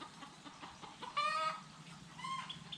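Chickens cluck softly in the distance, building to a louder drawn-out squawk and a second call near the end over a faint background hum.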